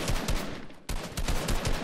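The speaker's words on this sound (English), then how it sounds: "What are you shooting at, bro?" Rapid bursts of video game gunfire crackle in dense, loud volleys, briefly dropping out for a moment before the shooting resumes just as heavily.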